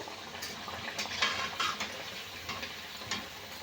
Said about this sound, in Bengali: আবার এগুলো একই রকম ভেজে নিয়ে তারপর আপনাদের দেখাবো